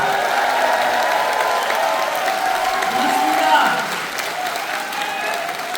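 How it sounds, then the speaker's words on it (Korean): A crowd at a Democratic Party joint campaign rally in a Chungbuk convention hall applauds strongly, a loud, sustained roar of clapping and cheering that eases slightly toward the end. A voice speaks briefly over it. "응원과 연대와 지지의 박수 힘차게 부탁드립니다"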